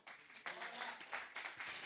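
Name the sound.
congregation applause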